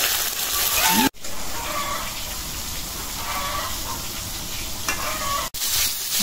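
Eggplant slices frying in hot oil in a home kitchen, giving a steady crackling sizzle with soft stirring scrapes, broken by two brief gaps.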